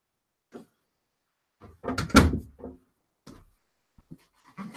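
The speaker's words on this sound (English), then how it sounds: "I have to shut my door." A door is shut indoors at a home desk, a cluster of knocks and a solid thump near the middle, with a dog panting and shuffling faintly before and after.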